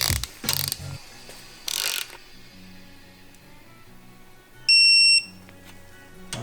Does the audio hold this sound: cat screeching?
no